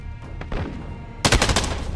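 Gunfire in a Call of Duty: Modern Warfare Hardpoint multiplayer match, with light distant shots at first and then a loud close automatic burst of rapid shots filling the second half.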